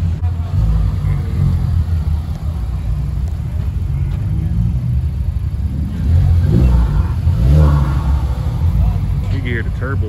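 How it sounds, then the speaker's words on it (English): Turbocharged supercar engine revving nearby at a busy car gathering, a steady loud rumble that swells into a stronger rev around the middle, with people talking throughout. "You can hear the turbos, man."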